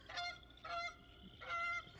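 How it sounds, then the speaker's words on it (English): A pair of Canada geese honk in three distinct bursts of nasal calls at a moderate distance, with short quiet gaps between them. "And yes, the Canadian geese are back."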